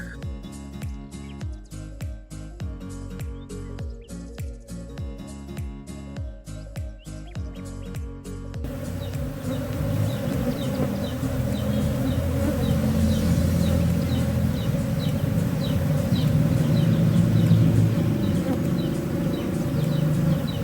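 A steady, dense buzzing of many honey bees swells and holds loud and close, with a brief rhythmic tapping at the start.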